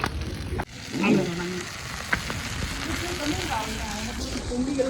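Oil sizzling and frying in a pan during village-style chicken cooking, a continuous hiss with occasional stirring knocks while people talk nearby.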